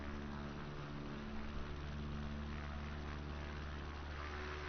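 A propeller airplane drones steadily in Microsoft Flight Simulator on a windy approach near New York City in a snowstorm. The engine hum is constant and even, with no voices.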